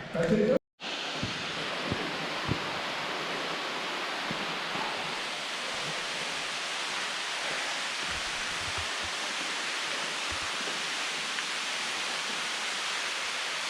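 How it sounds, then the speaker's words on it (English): A waterfall pours inside a cave in Texas as a dense, steady roar of rushing water. It is loud and continuous throughout and starts after a brief muffled thump at the beginning. "Where's the waterfall?"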